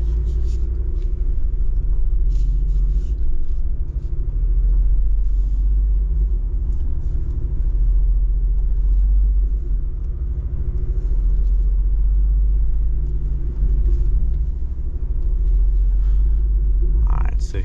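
A Jeep Wrangler Rubicon 392 V8 rumbles steadily while crawling off-road in second gear in a rainstorm, a deep, loud, continuous engine drone heard from inside the cabin.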